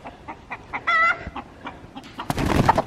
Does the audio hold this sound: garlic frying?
no